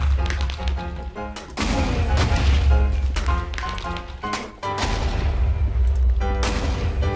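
Gunfire in the Minecraft minigame Quakecraft, with sharp repeated shots and booms in quick bursts over a busy game soundtrack.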